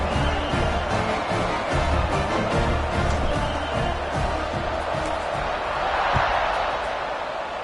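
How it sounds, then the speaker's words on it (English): Stadium crowd at a college football game, Notre Dame, at kickoff after an extra point: a steady, loud roar of many voices with a broad swell near the end, and no clear talk above it. "They're set to kick it off, and this crowd now ready to get behind them."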